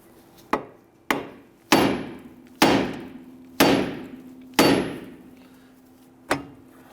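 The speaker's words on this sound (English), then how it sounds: "wearing safety glasses, use your hammer, strike the knuckle." Seven sharp metallic hammer blows strike a Jeep Grand Cherokee front steering knuckle one after another at a steady pace, each ringing briefly before the next strike, close and loud.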